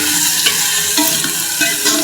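Garlic paste frying with browned onions in a pan, a steady broadband sizzle with a few soft stirring scrapes over two seconds, close and fairly loud, no talking.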